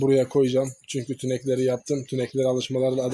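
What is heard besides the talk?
No everyday noises stand out.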